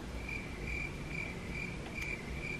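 Crickets chirping as a comedic sound effect, a steady, evenly pulsed trill repeating about every half second over a soft, hissy outdoor night bed, with no talk.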